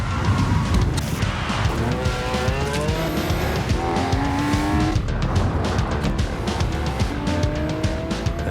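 A Lamborghini sports car with a 5-liter V10 engine drives hard, its loud, continuous engine note rising and falling in pitch while tires squeal throughout.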